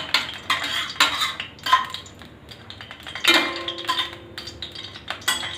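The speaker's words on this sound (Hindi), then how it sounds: "घी में भूनते हुए हम इसे धीरे धीरे भूनते रहेंगे" Besan stirred and roasted slowly in ghee in a pan, with a spoon scraping and clinking against the metal in irregular strokes and a faint sizzle between them.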